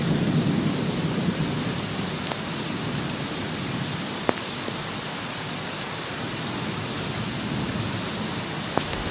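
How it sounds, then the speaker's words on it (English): Steady rainfall pours down with a broad hiss, a low thunder rumble early on, and occasional sharp drips or ticks nearby. "raining sound only"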